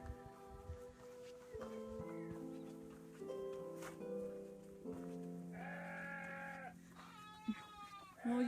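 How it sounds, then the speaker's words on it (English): Sheep bleat repeatedly, several wavering calls overlapping and trading off, some near and some farther, against a quiet outdoor background by a hand-built stone wall at a North Wales church. "All you can hear is the bleating sound of the sheep."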